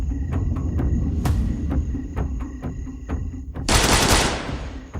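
Gunfire sound effects in an animated action story: a run of sharp separate gunshots at irregular intervals, then a longer roaring noisy burst near the end.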